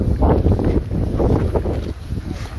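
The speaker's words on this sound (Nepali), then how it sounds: "आज हावा चल्दैछ" Wind gusting at sea during a fishing trip off Croatia, rough buffeting rumble across the microphone, loud and close, with no voices.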